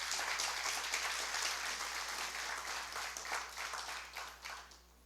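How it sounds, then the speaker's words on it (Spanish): A church congregation claps in a sustained, fairly dense round of applause over a low steady hum, tapering off in the final second. "Dale un fuerte aplauso al Señor."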